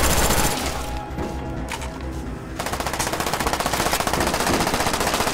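Rapid automatic gunfire from Black Ops 1 in a multiplayer bomb match: loud sustained bursts with a steady rattling rhythm, continuous fire dominating the second half, no speech.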